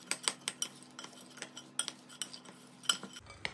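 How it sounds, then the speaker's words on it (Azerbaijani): A spoon stirring walnuts and starch in a bowl while making a cake, with steady close clinks and scrapes in an irregular rhythm that stop just before the end. "Bir qabda qoza, kraxmalı əlavə edib karıştırıram"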